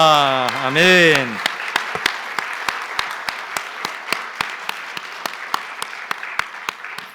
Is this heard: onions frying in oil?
no